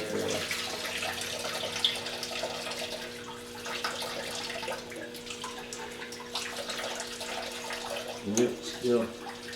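Antifreeze drains in a steady liquid trickle from the engine block of a Mercedes 300D into a pan underneath, a continuous low pour with a couple of brief splashy bumps near the end and no talk.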